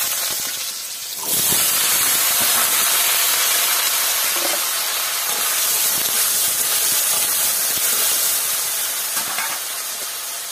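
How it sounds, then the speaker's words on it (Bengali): Potatoes frying in a pan with cumin in a village kitchen, a loud steady hiss and sizzle that starts after a brief quieter moment and continues unbroken. "এবার আলুগুলো ভেজে নেব।"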